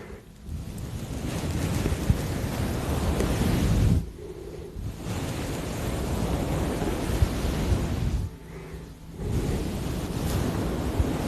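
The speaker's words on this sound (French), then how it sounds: "J'entends les vagues." Ocean waves roar and wash in a broad, steady rush, dropping off briefly twice before surging back, with wind buffeting the microphone.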